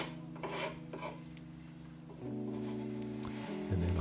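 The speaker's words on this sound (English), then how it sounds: "I'm going to scrape off any of the old glue where the brackets go." Scraper rasping old glue off a wooden chest of drawers where brackets will attach, a steady close scraping and rubbing that grows louder and lower toward the end.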